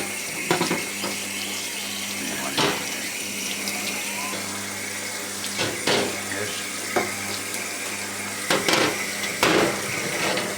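Tap water runs and splashes over metal BBQ grates during cleaning, a continuous rushing hiss with a low hum beneath and occasional clanks of the racks being moved.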